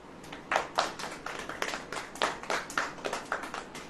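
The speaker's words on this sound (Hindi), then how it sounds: "ताली बजाएं।" A church congregation at a Hindi-language worship service claps in a quick, steady rhythm, many hands together at a moderate distance, with no talk over it.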